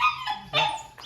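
A dog barks at an uncle's house in a few sharp, close bursts with brief gaps between them, the animal clearly near and loud, with no people talking during the barks.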